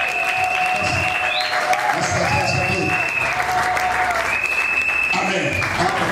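A church congregation applauding steadily and loudly through a sermon, with a continuous wash of clapping and some voices mixed in.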